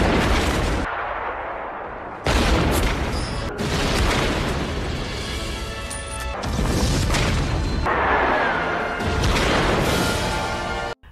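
Loud, sustained battle sounds from the Stalingrad war film Enemy at the Gates: repeated booming explosions and crackling gunfire in dense bursts, with brief lulls between heavy blasts and no speech.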